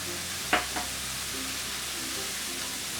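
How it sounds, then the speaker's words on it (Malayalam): Onion with ginger garlic paste sautéing in a pan makes a steady hiss of frying, with a sharp clack of a spoon against the pan early on followed by a lighter tap, close and without speech. "ഇതെല്ലാം കൂടി കിടന്ന് ആ ഒരു ഇഞ്ചിയുടെയും വെളുത്തുള്ളിയുടെയും എല്ലാം ഒരു പച്ച കുത്ത് മാറുന്നത് വരെ ഒന്ന് വഴറ്റിയെടുക്കണം."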